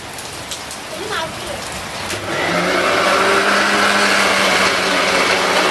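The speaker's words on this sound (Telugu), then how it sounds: "మెల్లగెళ్ళు వర్షం బాగా వస్తుంది మరి" Heavy monsoon rain pours down in a dense, steady roar that swells louder after the first couple of seconds, with a faint voice early on.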